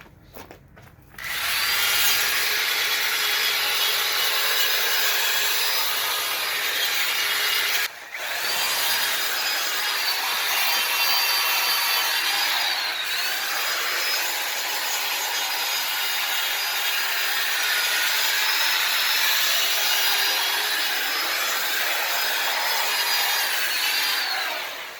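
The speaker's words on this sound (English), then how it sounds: "Now I prefer to use this plastic brush on the aluminum wheel" A plastic brush scrubs an aluminum truck wheel with a steady, close, continuous gritty rubbing that pauses briefly once near the start and then carries on without letup.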